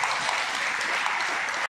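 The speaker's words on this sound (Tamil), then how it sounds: "ஐயா அவர்களுக்கு ஒரு பெரிய கரகோஷத்தை" Applause at a school Republic Day function, a dense, steady wash of many hands clapping together for nearly two seconds before cutting off abruptly.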